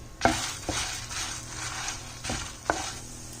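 Coriander seeds and cumin fry in a pan for a dry fish curry, a soft sizzle broken by several scraping stirs of a utensil against the pan, close and fairly quiet, with no speech.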